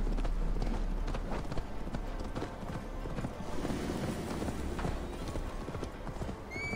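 A horse gallops in Assassin's Creed Valhalla, rapid rhythmic hoofbeats thudding close by with a brief whinny, under occasional quiet talk.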